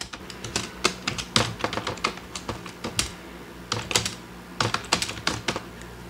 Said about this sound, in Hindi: मैंने आगे का टाइप करना शुरू कर दिया है